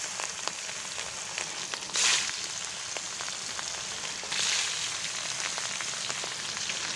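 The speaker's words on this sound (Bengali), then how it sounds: "এইবারে কড়াইয়ের মধ্যে আমি মাছটা দিয়ে দিচ্ছি, দিয়ে ভালো করে মাছগুলো ভাজা করে নেব।" Rohu fish frying in hot oil in a wok, a steady close crackling sizzle throughout with two brief louder bursts of spitting, no voices.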